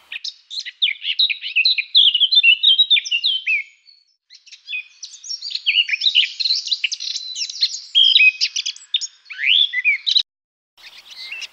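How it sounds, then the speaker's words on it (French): High, busy chirps and warbling song from small birds, a Eurasian blackcap among them, at a garden feeder come in dense bursts with a few short gaps, close and clear with no talking. "Même une fauvette à tête noire."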